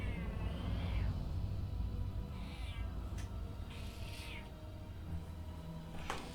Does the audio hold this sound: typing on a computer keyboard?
no